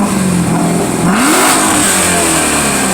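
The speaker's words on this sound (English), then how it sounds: "I want to hear him rev again. It's going to be very loud." A Chevrolet C7 Corvette Z06 engine revs up loudly and close, its pitch climbing sharply then settling back into a rough, throaty idle.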